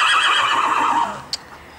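A horse whinnies loudly in a riding club stable, one long descending neigh close by that trails off, followed by a brief faint click.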